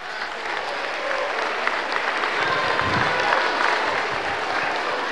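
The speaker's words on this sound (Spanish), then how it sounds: "Y los recibimos con fuertes aplausos." Loud, steady applause from an audience at a public ceremony in Sacaba, Cochabamba, Bolivia, welcoming the regional governor; dense continuous clapping fills the whole stretch with no talk over it.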